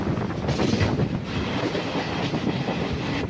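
KSR Bengaluru InterCity SF Express running on the Ernakulam–Coimbatore route, heard from inside the coach as a loud, steady rumble with rhythmic wheel clatter throughout and no voices.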